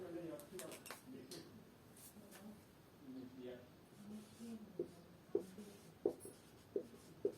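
Chalk or marker strokes on a board in a thermodynamics lecture, a series of short scratchy taps and scrapes that grow sharper toward the end, heard faintly amid room noise and a teacher's voice.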